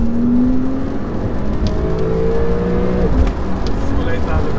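A Porsche 911 Carrera engine revs hard to 8,000 rpm and climbs in pitch, rising whine sweeping upward, heard close over steady road and rain noise with voices nearby.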